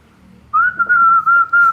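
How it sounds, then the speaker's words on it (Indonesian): Clear, tuneful human whistling: a steady high tone in several short phrases with brief breaks between them, close and fairly loud. "tunjukin gimana caranya bersiul"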